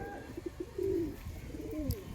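Pigeons coo in a loft where squabs are kept, soft rounded calls repeating near and close over a low background hum, with no talking.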